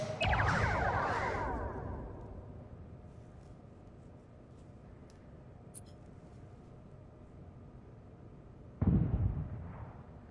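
A torpedo strike explodes in the Star Trek Bridge Crew video game: a loud booming blast that decays over about two seconds, a quiet hum with faint blips, then a second sharp explosion near the end.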